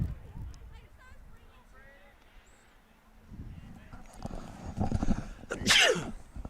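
A single sharp sneeze bursts out near the end, close and loud, after quiet background chatter and a low murmuring voice at a high school baseball game.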